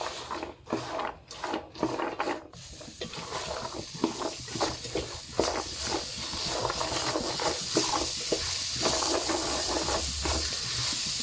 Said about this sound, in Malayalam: പപ്പായ ഉണ്ടല്ലോ കേട്ടോ മിക്സ് ചെയ്തെടുക്കും